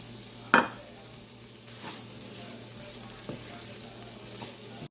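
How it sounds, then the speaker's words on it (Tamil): Asparagus tossed with grated coconut in a frying pan gives a soft, steady sizzle, with one sharp scrape of the spatula near the start and a few lighter stirring taps afterward. "கடைசியாக தேங்காய்ப்பு கொஞ்சம் சேர்த்து கிளறி விடுவோம்"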